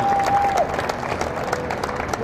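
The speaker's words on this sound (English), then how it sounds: "Big round of applause for all 3 of them." A crowd applauds at a marathon speaker event, a steady wash of clapping that holds at even strength throughout with a brief tone near the start.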